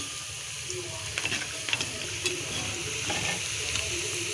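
Drumstick leaf bondas deep fry in hot oil, a continuous bubbling sizzle with occasional light clinks and crackles, close and moderately loud with no talking.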